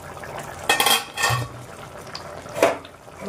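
Pot lid and pan clattering on the stove while fish curry with arbi simmers, a few close metallic knocks and scrapes separated by quiet gaps, no talking.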